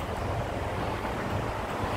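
Wind gusts outdoors along an airport road on a hot day, a steady low rumbling buffet with no breaks, heard alone.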